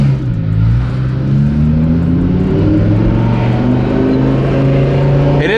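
A twin-turbo Audi R8 supercar cruising through city streets, a loud steady low engine drone heard from inside the car with slowly rising and falling pitch and no clear voices.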